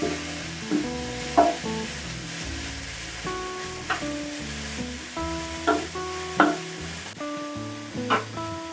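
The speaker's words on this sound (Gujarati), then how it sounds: "હવે આપણે આને સતાવા દઈશું" Spring roll filling of cabbage and capsicum sautéing in a pan, a steady soft sizzle and stirring beneath prominent melodic background music.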